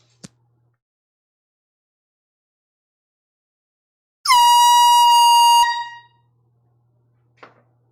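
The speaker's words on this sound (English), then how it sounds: "Jason, time for the air horn." At a live record sale, a loud air horn blares in a single blast of just over a second and then cuts off, with near silence before and after apart from a couple of faint clicks.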